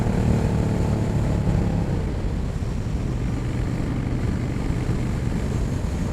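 Honda Shadow 750 motorcycle pulling away from a standstill, a loud, close, continuous engine roar that holds steady and unbroken throughout.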